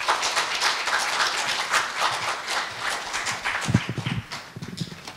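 An audience applauds after a university health forum lecture on depression. Many hands clap in a dense, even patter that thins toward the end, where a few louder, lower thumps break through.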